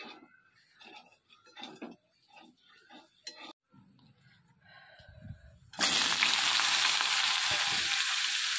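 Hot oil sizzling loudly in a cooking pan, a strong steady hiss that starts abruptly after a stretch of quieter kitchen clatter and movement.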